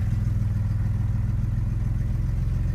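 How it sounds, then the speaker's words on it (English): Chevrolet Blazer engine idling with the air conditioning switched on, a steady low mid-range hum and rumble held close and fairly loud throughout, with no voices. "I'm gonna turn on my AC, and it's gonna accelerate, or it's gonna raise the RPM."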